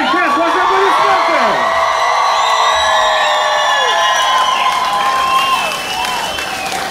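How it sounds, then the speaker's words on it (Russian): A large rock show crowd in Odesa applauds and cheers loudly, with whoops and shouts over sustained clapping that fades slightly near the end. "Друзья, я хочу еще раз попросить вас поаплодировать группе «Пим Райкэс» ваши аплодисменты!"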